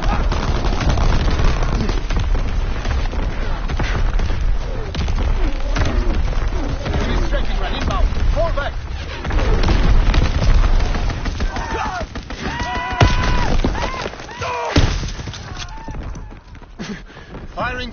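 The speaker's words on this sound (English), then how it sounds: "Incoming enemy artillery, get to cover." Incoming enemy artillery in a video game, heard as rumbling booms and crackling bursts of gunfire layered under a radio-style announcer voice and other chatter, steady and loud across the whole stretch.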